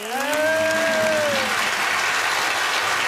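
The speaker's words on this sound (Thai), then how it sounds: "เสียงปรบมือดังให้กับวันเกิดพอกำนันน้อย" A crowd claps steadily and loudly at a birthday celebration held at a village chief's home in Thailand, with a rising whistle-like tone over the start and continuous applause to the end.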